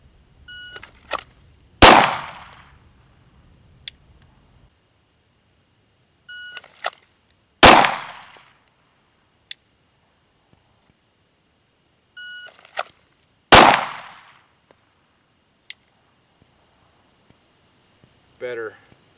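Pistol gunshots in a quick draw shooting drill: three loud, sharp single shots spaced about six seconds apart, each preceded by a short timer beep, with faint clicks and a brief voice between shots.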